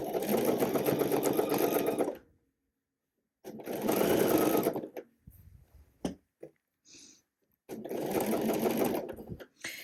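A sewing machine stitches through many thick fabric layers in three loud, steady runs, separated by pauses that hold faint handling noises.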